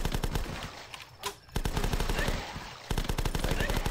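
Rapid automatic gunfire from the zombie shooter game The Last Stand, loud bursts of evenly spaced shots with a short pause in between, fairly close and dominant, with little else audible.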